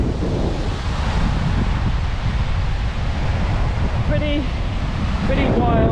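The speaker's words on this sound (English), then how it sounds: "Pretty wild, windy and big swell" Strong wind roars over the microphone beside a Bahamas beach, where big storm-driven surf pounds continuously after a tropical storm and hurricane have passed, loud and close, with a voice speaking underneath.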